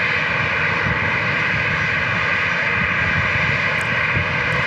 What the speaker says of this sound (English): Oh, there's another F-16.